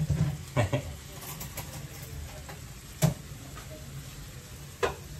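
Onions go into a home-cooking pot for sopas and fry with a faint, soft sizzle. A few sharp clacks and scrapes of stirring come at irregular moments, and there is light background noise.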